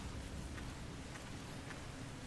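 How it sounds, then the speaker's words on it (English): Steady rain from a Resident Evil Revelations 2 cutscene, a dense continuous hiss with faint droplet ticks throughout and no voices. "Here comes the rain."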